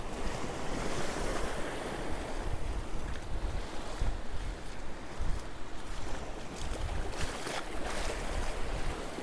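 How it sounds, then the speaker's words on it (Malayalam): Surf pounds the rocky shore of St Mary's Island near Malpe beach, Udupi, where two sets of waves meet, a loud continuous wash of breaking water with gusty wind noise on the microphone and no talking. "രണ്ട് തിരമാല കൂട്ടിമുട്ട സ്ഥലം കേട്ടോ."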